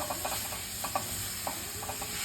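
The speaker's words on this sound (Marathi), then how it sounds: "गूळ टाकून आपल्याला हे परतून घ्यायचं आहे गॅस बारीकच ठेवायचा आहे" Grated fresh coconut with jaggery being stirred and sautéed in a pan over a low flame, giving a soft steady sizzle with occasional scrapes and taps of the spoon, close by and with no talking.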